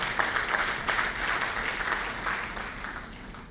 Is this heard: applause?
yes